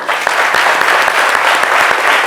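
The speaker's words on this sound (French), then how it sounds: "et je crois que ça s'applaudit" Loud, close audience applause at an award-honouring portrait event, dense clapping with a few sharp individual claps standing out, steady throughout without any talking.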